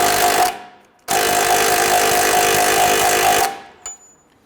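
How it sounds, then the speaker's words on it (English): An impact wrench with a 1-inch socket tightens the lower ball joint nut on a 2007-2014 Cadillac Escalade front lower control arm, in two loud rattling bursts, the second long, then a brief tap. "Tighten down the lower ball joint nut using a 1-inch socket."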